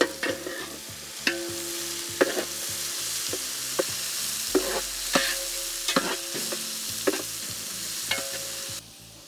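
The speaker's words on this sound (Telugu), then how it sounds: "వెంటనే దీంట్లోనే మనం సన్నగా తరిగిన ఉల్లిపాయలు యాడ్ చేద్దాం." Finely chopped onions fry in hot oil with garam masala spices, pepper and bay leaf for mutton curry, giving a steady close sizzle broken by regular scraping stirs of a spoon against the pan.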